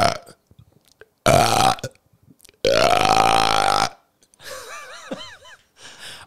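Several loud, drawn-out burps with a wet, croaky quality, separated by short quiet gaps, with a breathier burst near the end; recorded close up during a casual podcast conversation.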